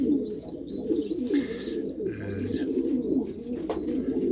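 Close-up pigeons coo in a low, continuous rolling murmur, with a few brief higher calls and rustles over the steady cooing of the flock.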